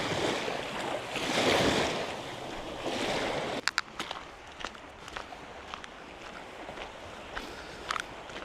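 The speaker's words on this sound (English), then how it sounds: "Feels so good to be by the ocean." Ocean waves wash onto an overcast shore, a broad surging roar that fades after a few seconds into softer water and wind noise with scattered clicks and footsteps nearby.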